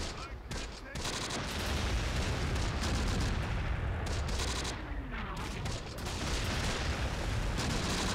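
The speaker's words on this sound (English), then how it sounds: "I ordered the artillery a little bit further back, hoping that it would hit more in this area. It is shooting a little bit long for my taste." Artillery fire in the World War II game Close Combat: The Bloody First on D-Day at Omaha Beach: dense, continuous booming barrage with overlapping blasts and rumbling impacts, loud throughout with a brief lull near the start.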